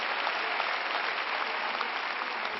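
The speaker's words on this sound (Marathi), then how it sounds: "मी टाळ्या वाजवते तुमच्यासाठी." Sustained applause from a large audience, dense and steady clapping at an even level throughout with no voices on top.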